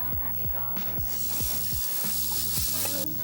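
Meat searing in a hot pan, a loud continuous sizzle that swells mid-way, with repeated rhythmic scraping or tapping strokes close by.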